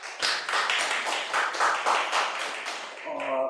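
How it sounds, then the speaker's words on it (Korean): Audience at an academic conference on urban regeneration claps in a dense burst of applause that fades out near the end as a voice begins. "큰 박수 한번 부탁드리겠습니다."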